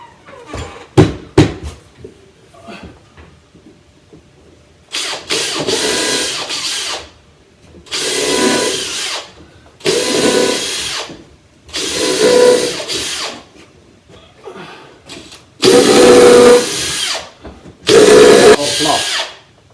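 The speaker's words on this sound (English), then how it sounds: "I don't want this wood splitting, I'm drilling it" A power drill whines in several loud bursts of a second or two, drilling into wood, separated by pauses, with a few sharp knocks at the start and brief talk between.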